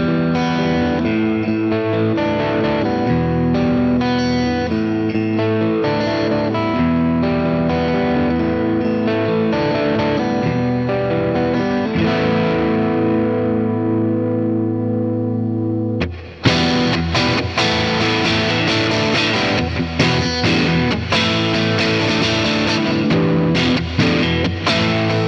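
Squier Affinity Stratocaster electric guitar played through an amp's lead channel, heavily distorted, a continuous loud stream of sustained chords and riffs that grows brighter and more aggressive partway through, with no talk.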